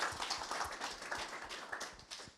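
Audience applause at a PHP meetup: a dense wash of many hands clapping at moderate distance, steady and sustained through the whole stretch with no voices over it.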